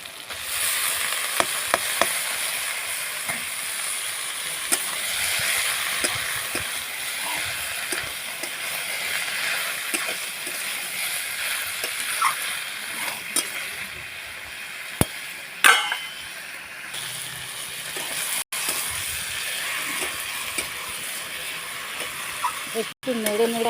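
Potatoes and spices fry in a pan while being stirred for a banana-flower and prawn curry, a continuous loud sizzle with scraping stirs, briefly interrupted by a few sharp knocks near the end.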